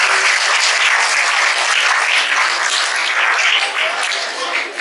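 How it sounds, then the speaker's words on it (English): A large audience at a school Independence Day celebration breaks into sustained, loud applause that holds steady throughout, with dense overlapping claps and no pauses. "A huge round of applause for all our global international."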